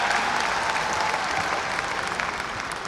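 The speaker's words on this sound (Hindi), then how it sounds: "तालियों की गड़गड़ाहट से ग्वालियर के अंचल में उनका स्वागत किया जाए।" An audience at the Gwalior Growth Summit in Madhya Pradesh gives Amit Shah steady, loud applause, a thick continuous patter of clapping that fades slightly toward the end.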